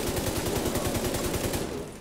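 Rapid sustained burst of light machine gun fire in The Division 2, steady evenly spaced shots rattling for about two seconds before trailing off.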